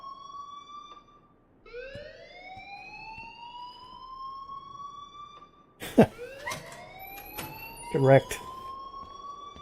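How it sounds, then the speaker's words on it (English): A rising, wailing electronic alarm from the video game Living Is Odd sweeps upward in repeated siren tones, with a brief voice and sharp bursts of other game sounds layered in near the end. "please turn off that alarm since that's your job"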